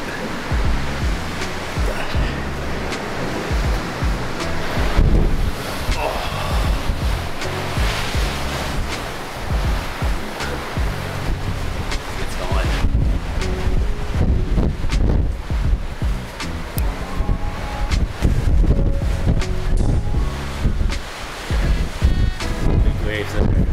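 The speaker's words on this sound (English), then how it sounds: "It's windy." Strong wind buffets the microphone aboard a moving ship bound for Antarctica, with ocean waves surging and crashing around the hull in a loud, constant roar.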